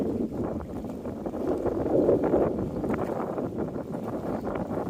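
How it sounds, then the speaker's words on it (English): Steady wind on a railroad bridge buffets and roars against the microphone in a continuous rumbling gust, swelling slightly midway before settling back. "Windy out here."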